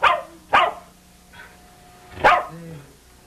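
A dog barks a few times, sharp and close, with a short gap and a softer whimpering sound between barks.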